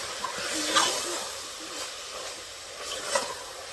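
Turmeric, chili, coriander powder and garam masala sautéing for beef curry in a pressure cooker, a steady soft hiss and sizzle with a few faint clicks, close and unbroken throughout.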